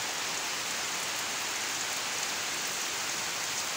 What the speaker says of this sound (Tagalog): dito sa amin ngayon ulan pa lang at pabugso-bugso pa unti-unti ang hangin